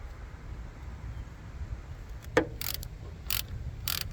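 A hand tool tightening the negative battery terminal on a cheap beater car: a few short ratchet clicks and metallic ticks, close but quiet over a low background hum.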